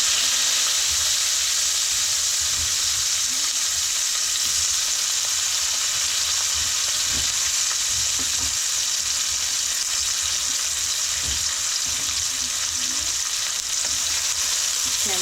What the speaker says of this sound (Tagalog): mainit na yung mantika. Lagay na natin ang sibuyas at bawang.